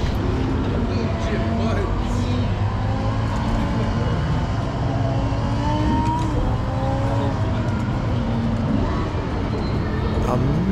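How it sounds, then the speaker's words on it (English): Lamborghini Huracan V10 engine drones and revs continuously, its pitch rising and falling in repeated climbs, while someone talks over the steady, loud engine note. "the Lamborghini Huracan must be the best sounding V10 I've ever heard, next to the LFA"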